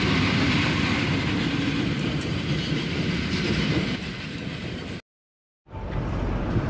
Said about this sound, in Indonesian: kereta api Kuto Jaya Selatan masuk stasiun Cipendei